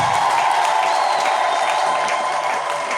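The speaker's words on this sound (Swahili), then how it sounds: "Ongeza makofi tena kwa Bwana Yesu." A church congregation applauding in worship, a steady, dense wash of clapping hands filling the room at fairly loud level for a few seconds without interruption.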